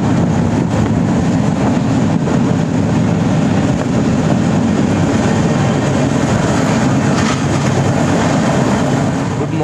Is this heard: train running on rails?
yes